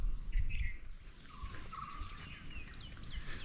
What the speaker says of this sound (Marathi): फक्त शांतता, पक्ष्यांचे आवाज